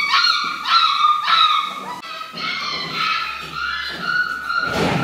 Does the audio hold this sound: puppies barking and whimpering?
yes